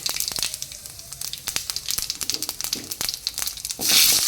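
Whole white cumin seeds hit hot oil for tempering alongside bay leaf, dried red chilli and black cumin, giving a steady close crackling sizzle with sharp pops that flares into a loud hiss near the end.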